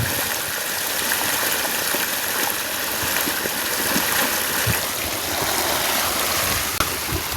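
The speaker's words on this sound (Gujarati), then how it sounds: "પાણી ચાલુ કરી નાખ્યું હાલ પાણી આવી જા" Water rushes steadily and continuously, a full gushing flow like a pipe emptying nearby, with no voices.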